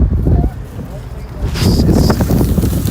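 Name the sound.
strong wind blowing outdoors in March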